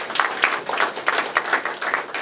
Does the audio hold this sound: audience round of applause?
yes